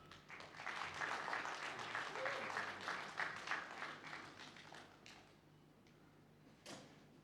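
A crowd applauds graduates at a diploma graduation ceremony, dense sustained clapping that thins and fades toward the end, leaving a few scattered claps.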